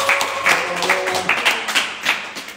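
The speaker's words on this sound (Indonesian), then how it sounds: "Kita tepuk tangan dulu untuk Pak Ustadz" An audience applauds a religious teacher (ustadz) at a Ramadan study gathering, with a steady patter of many hands clapping close by for a few seconds.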